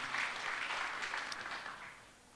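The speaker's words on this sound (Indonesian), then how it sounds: "Kembali berikan tepuk tangan." A short burst of congregation clapping at a church prayer service, a dense patter of hands that tapers off quickly, fairly faint.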